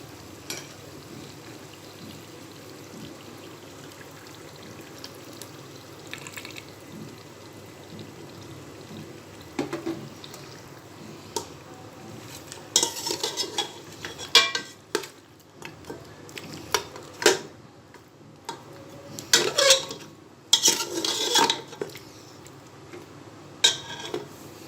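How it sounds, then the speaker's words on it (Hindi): Yogurt goes into mutton nihari masala in a pan and gets stirred, at first a quiet sizzle and soft scraping, then louder spoon clatter and sloshing stirring strokes against the pot in the second half. "अब मैं डालूंगी इसके अंदर दही"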